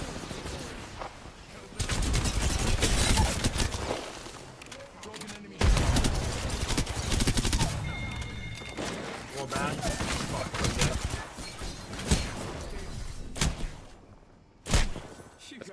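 Apex Legends match with bursts of automatic gunfire, rapid rattling volleys and sharp single shots spread across the stretch, loud and close at times, broken by short pauses.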